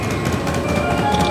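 A train rumbles steadily close by, a continuous mechanical roar with faint voices underneath.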